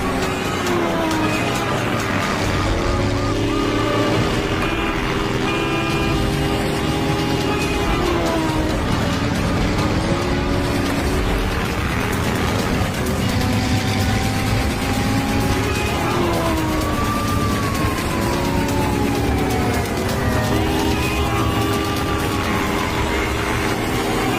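Car racing away at speed during a chase, a loud sustained engine roar with rising and falling whines under a dense, busy mix, with some voice present.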